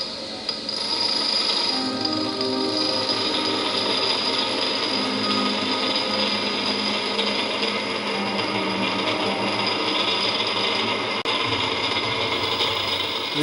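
A bench grinder sharpens an HSS lathe tool with a steady whirring drone and a rough, continuous grinding rasp that holds evenly throughout, close and loud, with no talking.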